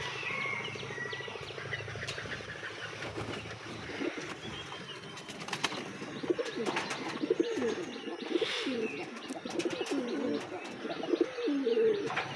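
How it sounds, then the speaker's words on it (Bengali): Domestic pigeons coo steadily in a morning coop, with overlapping throaty calls and scattered chirps continuing throughout, close and fairly loud, with no talking. "দেশি কবুতর"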